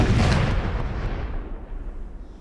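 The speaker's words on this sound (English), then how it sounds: "They're firing one cannon." A single cannon booms in the Napoleonic-era video game Napoleon: Total War, a loud, heavy blast that rolls off into a long fading rumble with no voices.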